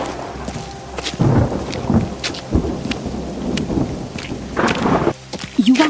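A night thunderstorm with steady rain pattering on surfaces and several sharp, loud thunder cracks and rumbles breaking through at irregular intervals.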